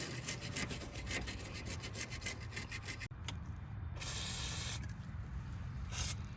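Aerosol lubricant spray hisses in several close bursts onto the rusty hood latch spring and mechanism of a 2017 Lexus RX350, a short one early on, then a longer steady blast and a final brief spurt, with faint scraping between.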